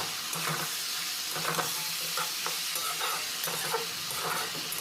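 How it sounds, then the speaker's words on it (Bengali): Ridge gourd and potato curry is stirred in a pan, producing a continuous soft sizzle with rhythmic scraping strokes close by and no voices. "আবার এইভাবে নাড়াচাড়া করে সবজিটা ভালোভাবে কষে যেতে হবে"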